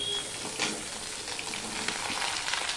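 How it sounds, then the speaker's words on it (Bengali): Papaya and potato pieces fry in a pan without onion or garlic, giving a continuous close sizzle with occasional crackles and stirring scrapes. "পেঁপেগুলো দিয়ে আমি আরেকটুখানি ভেজে নেব"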